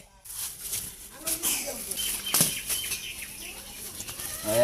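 A chicken flaps its wings in bursts of fluttering, close and fairly loud, with a voice speaking over the commotion.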